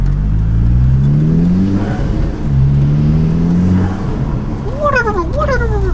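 An Audi S3 8P with a diverter valve and blow-off valve fitted pulls away, its engine revving up through rising pitch sweeps, easing off, then climbing again, with a short whooshing flutter near the end.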